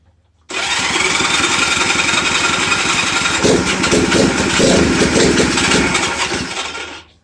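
An engine suspected of blow-by from a bent valve starts abruptly after a moment of quiet, then runs loud and steady with a rough, pulsing rhythm for about six seconds before starting to fade.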